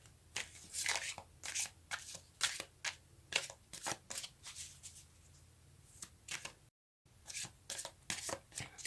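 Tarot cards shuffled close up in quick repeated riffling bursts with brief pauses, quiet and without speech.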